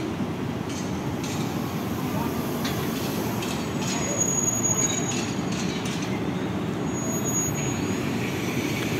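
A commuter train rolls into a station on the Manggarai–Jatinegara line, its wheels squealing with high-pitched screeches over a steady, loud rumble of rail cars.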